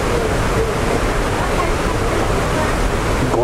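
Jōren Falls in Izu on a rainy day, a dense, steady rush of falling water roaring continuously and evenly, loud and near, with a person faintly talking beneath it.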